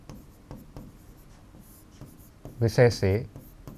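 Pen strokes on paper scratch softly and intermittently during a lecture, quiet and close, before a voice speaks briefly near the end.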